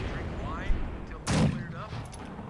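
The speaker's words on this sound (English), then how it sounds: "So blind mortar shelling seems legit, I guess." A mortar shell from Company of Heroes 2 lands in one loud, broad burst near the middle, with a short rumbling tail, amid steady game background noise and a talking voice.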